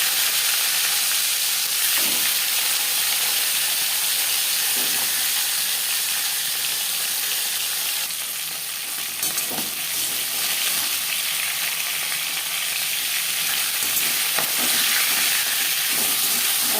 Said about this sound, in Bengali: চার চামচ রিফাইন্ড অয়েল গরম করে নিয়েছি এবার দিয়ে দেবো মাছের মাথা